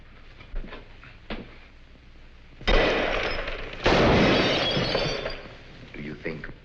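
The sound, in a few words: gunshots fired in a film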